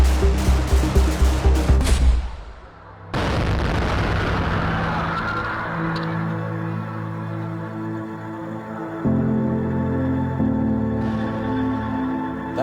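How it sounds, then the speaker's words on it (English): An intense explosion in a Libyan city during unrest, preceded by rapid crackling bursts like gunfire, then a sudden loud blast whose heavy roar rumbles on and swells again. "That was an intense explosion."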